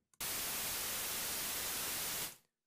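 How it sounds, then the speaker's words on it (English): A white-noise oscillator on the ES2 synthesizer in Logic Pro X hisses as a loud, flat, steady wash lasting about two seconds, starting abruptly after a tiny click and fading out quickly at the end. "I have the ES2 loaded up here with just white noise as an oscillator."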